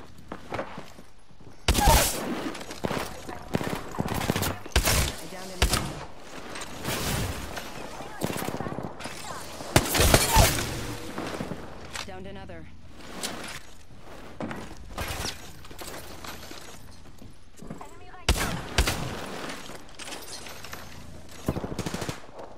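Gunfire in the Apex Legends video game, including Peacekeeper shotgun blasts: loud, close bursts of shots in clusters across the clip, with someone talking between and over the volleys.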